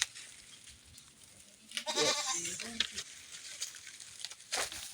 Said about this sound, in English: Goats and sheep. This is a small goat.